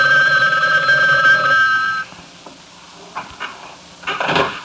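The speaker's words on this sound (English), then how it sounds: "Do you want to answer the phone, Mary?" An old-fashioned telephone bell rings loudly for about two seconds in a radio comedy drama, then stops, followed by quieter handling and clunking sounds as the receiver is picked up.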